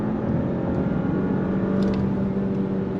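A 2025 Audi Q7 55 Prestige with an 8-speed transmission pulls away from a dead stop under throttle, a steady muffled engine drone heard from inside the cabin with no talking.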